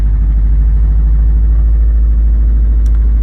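A Subaru car engine runs with noisy cylinder heads, giving a loud, steady, close-up rumble that holds unchanged throughout with no voices.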